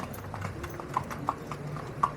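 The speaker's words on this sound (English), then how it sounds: "We're on a horse and buggy ride, right?" Hooves of a horse pulling a buggy through downtown Nassau, Bahamas, a few irregular clip-clops on pavement close by over low street and traffic noise.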